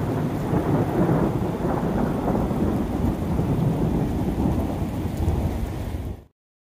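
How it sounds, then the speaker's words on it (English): A serious thunderstorm pours outside, with heavy rain on surfaces and low rumbling thunder forming a loud, dense, continuous roar that ends abruptly. "We've got serious thunderstorms going on outside"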